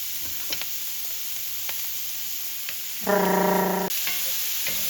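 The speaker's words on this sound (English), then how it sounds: "Give that a nice stir." Vegetables seasoned with salt and black pepper sizzle steadily in a hot pan for beef pepper soup, with a few soft clicks of stirring and a brief tonal whine near the end.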